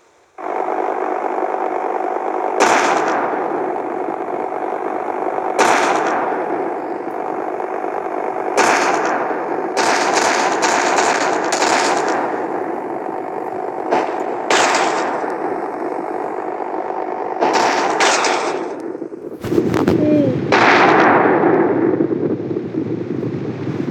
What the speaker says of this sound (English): Gonna have some airstrike.